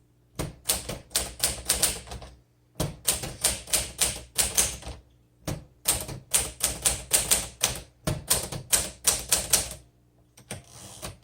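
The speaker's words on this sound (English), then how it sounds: "this would be a good typewriter for them as well, because it's actually a lot easier to type on than some other manuals" A 1955 Smith Corona Silent Super manual typewriter in Alpine blue being typed on, with rapid bursts of crisp key strikes separated by short pauses, close and clear with no voices.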